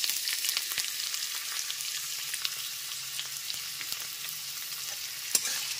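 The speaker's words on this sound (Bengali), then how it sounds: "গ্যাসের ফ্লেমটা লো টু মিডিয়ামে রেখে পেঁয়াজ কুচিটা হালকা করে ভেজে নেব" Chopped onion frying in a pan over a low to medium gas flame, a steady soft sizzle with faint crackles and an occasional stir, no voices.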